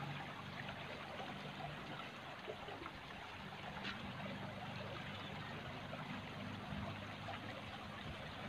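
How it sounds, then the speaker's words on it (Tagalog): Strong floodwater current rushing under a village bridge during Typhoon Ofel, a steady broadband roar of churning water that holds at an even level throughout with no voices. "Inaabot ang aming tulay ng malakas na agos ng tubig."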